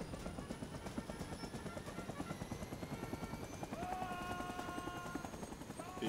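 A military helicopter in the Vietnam War video game Rising Storm 2: Vietnam thumps with a steady rapid rotor chop throughout, loud and continuous, with a brief tonal whine joining near the end.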